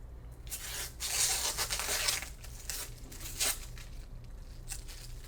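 Protective film comes off an EVGA RTX 2080 Super graphics card in bursts of close crinkling and tearing that rise and fall over several seconds, with a low hum underneath.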